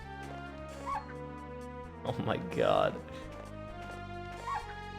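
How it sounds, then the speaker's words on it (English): A dog barks and yips in the video game Mizzurna Falls, a few short barks up close over a steady music bed, with a person reacting aloud in the middle. "I can't get away from this dog."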